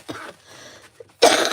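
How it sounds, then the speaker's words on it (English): A short cough near the start, then a loud, harsh cough burst near the end, close up with little else around it. "you guys, I still have the cough."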